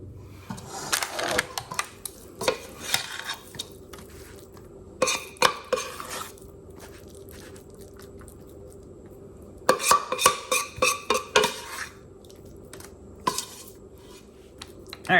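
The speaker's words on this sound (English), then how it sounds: "Just gonna fold them in until they're well coated, and then transfer them over to the baking dish." A spatula folds a sticky butterscotch and peanut butter mixture for confetti bars and scrapes it into a baking dish. Bursts of scraping and clinking against the bowl come in clusters, separated by quieter pauses.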